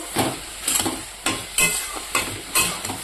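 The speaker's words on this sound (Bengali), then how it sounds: "চচ্চড়ি মোটামুটি সেদ্ধ হয়ে গেছে" Vegetable chorchori simmers in a pan and is stirred in bursts, each stroke bringing a scraping rush of sizzle and hiss between quieter moments. No talking is heard.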